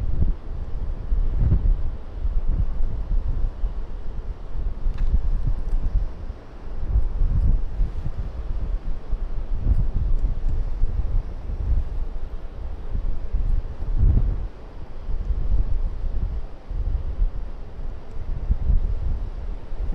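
Gusty wind rumbles low and steady against the microphone, swelling and easing in repeated surges for the whole stretch.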